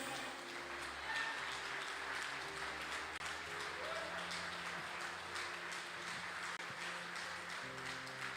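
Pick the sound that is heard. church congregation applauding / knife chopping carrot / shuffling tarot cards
church congregation applauding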